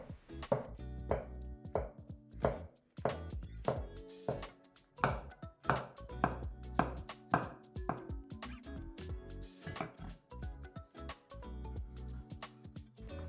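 A knife chops mushrooms steadily on a cutting board, brisk irregular thuds close by, with short pauses between bursts of cutting.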